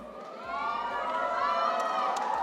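A crowd cheers and shouts at a LAN fest cosplay contest, a steady dense roar of voices swelling slightly and holding loud throughout.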